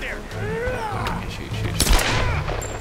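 Gunshots crack in the Tomb Raider video game amid busy game sounds and swooping tones, with a heavier boom near the middle, fairly loud throughout.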